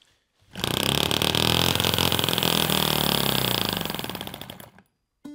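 A small transparent 3D-printed resin combustion engine running on 25% nitromethane fuel starts up and buzzes at a steady, loud, rough drone for about four seconds, then winds down and stops.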